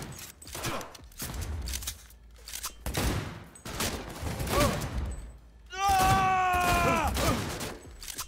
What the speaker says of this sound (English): I love the impact of the guns in this house